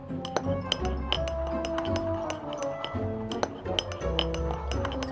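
Glass clinks repeatedly as yeast and warm water are stirred together in a glass container for an elephant toothpaste experiment, bright taps over light background music.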